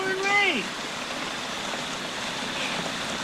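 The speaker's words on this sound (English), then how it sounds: "it's pouring rain" Steady pouring rain in a movie scene, a dense even hiss running throughout after a brief descending tone near the start.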